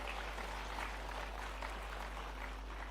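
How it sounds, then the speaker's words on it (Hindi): An audience at a Raj Bhavan ceremony in Bhopal gives a dense, even round of applause over a steady low electrical hum, with the clapping holding at a fairly soft level throughout. "ताली तो बजनी चाहिए"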